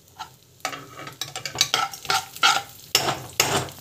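Crushed almonds being stirred in a pan for kesari, with quick uneven scraping and clinking strokes of the spoon against the metal over a light sizzle.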